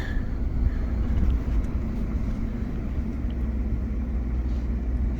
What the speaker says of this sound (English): So back in the truck now, just driving by.